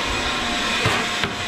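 A shop vac rigged as a gun runs as a steady loud roar and hiss, with a couple of faint thumps from a ping pong ball being fired.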